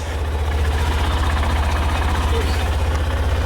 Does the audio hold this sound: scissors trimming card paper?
no